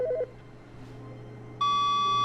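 A telephone in The Stanley Parable game starts ringing abruptly partway through, a steady electronic tone with bright harmonics that holds loud and unbroken, following a few short beeps at the start.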